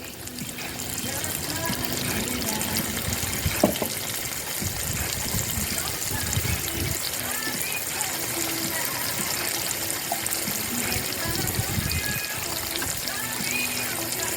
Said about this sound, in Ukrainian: Обов'язково обмиваємо баночку, щоб нічого вкусненького не залишилось.